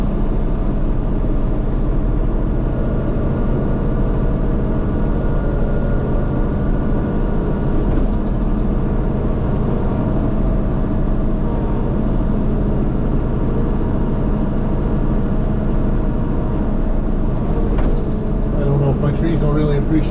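A snow blower engine runs steadily up close, a continuous dense drone with a few faint rattles and clicks toward the end as it works over gravel.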